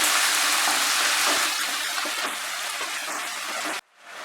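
Prawns sizzle in hot oil in a pan for a Bengali chingri posto, a loud steady hiss of spattering that drops to near silence abruptly before faintly resuming.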